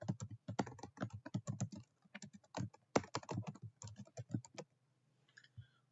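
Remarks typed into a purchase and vendor voucher on a computer keyboard: rapid, uneven clusters of crisp key clicks close to the listener, pausing briefly partway through and fading near the end, with no talking.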